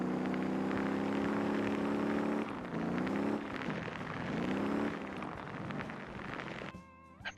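Small bus engine in the Motor Town driving game, a steady loud drone with harmonic hum that dips and shifts pitch as the vehicle changes speed on a snowy island road, cutting out near the end.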